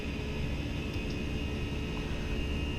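Jet airliner engines at takeoff thrust on a Southwest flight departing Ontario, a steady loud broadband roar with a constant whine, unbroken and heard from inside the cabin.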